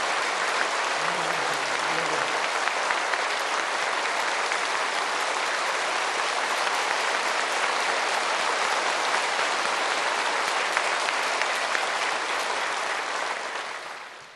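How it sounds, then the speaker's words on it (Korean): Congregation in a Korean church giving sustained applause, a broad, even wash of many hands clapping that holds steady for over ten seconds before fading out, with a voice faintly present early on. "우리에게 큰 승리를 주신 하나님께 영광의 박수 올려드리겠습니다"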